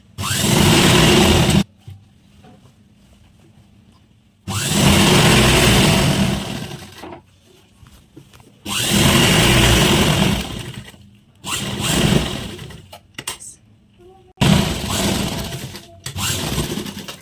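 Sewing machine stitching elastic on a circular umbrella plazo, loud bursts of rapid stitching separated by pauses, with four long runs and a few shorter ones.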